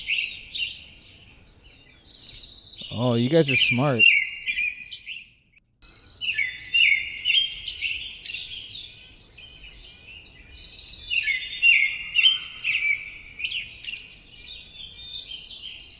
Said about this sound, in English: I was listening to the bird song, everybody.